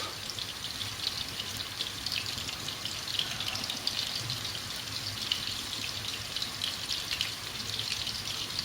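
Meatballs fry in hot oil, giving a steady, broad crackling sizzle with scattered pops, moderately loud and continuous throughout, with no voices.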